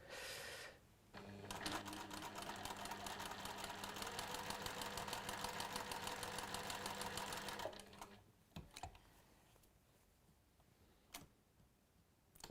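Sewing machine stitching quilt block squares, a rapid steady mechanical whirr and tick of the needle lasting several seconds at close range, then stopping, followed by a few faint clicks and handling noises.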